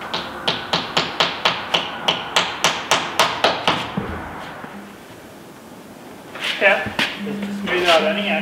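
Roofing nails are hammered into the corners of a window buck: about a dozen crisp, evenly spaced hammer blows in quick rhythm, then quieter handling noises and a voice speaking.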